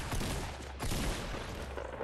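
A shotgun blast in the video game Fortnite, a dense burst of gunfire noise filling the short moment, loud and unbroken.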